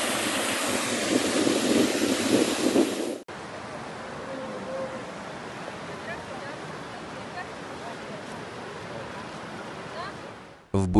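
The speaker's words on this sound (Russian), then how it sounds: "Местная дорога превратилась в бурлящую реку." Floodwater from heavy rain in Buryatia rushing over a local road like a churning river, a steady broadband roar close by that drops briefly and then keeps pouring, with no speech.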